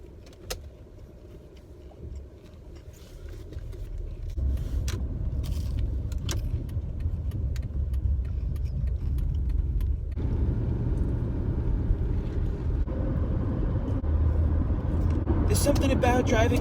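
Road noise from a car cruising on the freeway forms a steady low rumble that thickens after a few seconds, while someone talks over it throughout.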